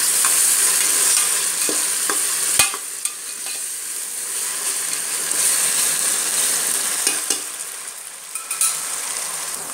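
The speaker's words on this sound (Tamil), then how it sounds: "இஞ்சி பூண்டு பேஸ்ட்டோட அந்த பச்சை மணம் போடுற வரைக்கும் அதை கொஞ்சம் நல்லா வதக்கி விட்டுக்கணும்" Ginger garlic paste sautéing in a hot pan, a loud continuous sizzle and frying crackle up close, broken by occasional scrapes and taps of a spatula as it is stirred.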